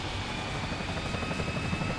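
A helicopter in the video game Resident Evil 4 gives a steady, loud rotor drone with a continuous whine, filling the whole stretch without speech.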